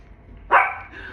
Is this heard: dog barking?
yes